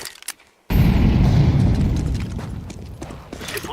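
In a video game, an incendiary grenade goes off with a sudden loud boom after a brief quiet moment, then a dense crackling roar of burning that slowly fades.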